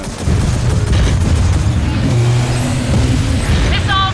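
Missile launch in the Gears of War 4 video game, a loud, sustained low rumbling boom that runs nearly unbroken for about four seconds, with a few brief high mechanical beeps near the end.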